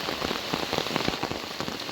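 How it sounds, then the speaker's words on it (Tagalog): Heavy rain from Typhoon Kristine pours down steadily and densely, a continuous close hiss of drops on surfaces with no voices. "I just wanna show you kung gaano kalakas yung ulan kagabi up until now"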